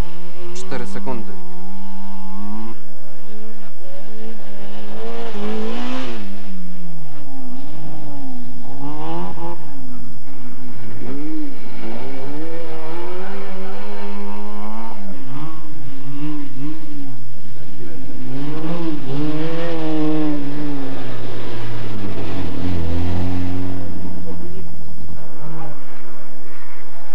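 A Mazda 323 4WD Group A rally car with a 260-horsepower engine at a winter rally stage, its engine revving and rising and falling in pitch as it passes, heard under a continuous commentator's voice.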